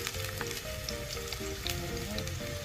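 Ginger hits a hot frying pan that already holds garlic, setting off a loud, dense, crackling sizzle that holds steady and close throughout, with faint tonal hum underneath.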